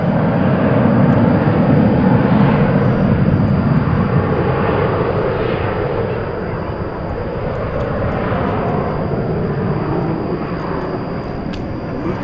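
Airliner at a busy airport, a loud steady jet engine roar filling the whole stretch and easing slightly partway through, with no voices.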